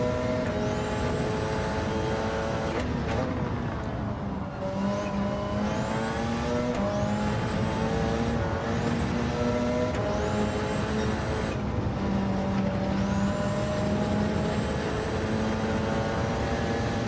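Race cars lapping in Gran Turismo 7 during a four-hour Le Mans endurance event, engines droning loudly and continuously with rising pitch sweeps as gears change and revs climb repeatedly.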